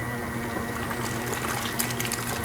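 A portable folding washing machine churns a load of clothes in water, making a soft, continuous sloshing gush over a low, steady mechanical hum.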